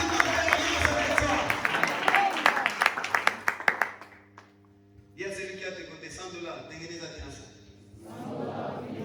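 A church congregation claps and cheers during a worship service, a loud burst of rapid clapping over the crowd that breaks off around four seconds, followed by softer voices and music.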